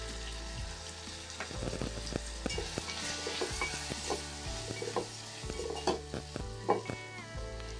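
Red chili masala, onion-garlic masala and turmeric powder sauté in a pan, giving a steady soft sizzle with repeated spatula stirring and scraping knocks, close and fairly quiet.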